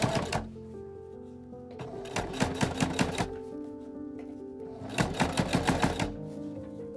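A heavy-duty sewing machine stitches through thick layers of fabric for a Victorian bustle gown, running in two bursts of rapid, rhythmic needle clatter with a quiet pause between them, close and fairly loud.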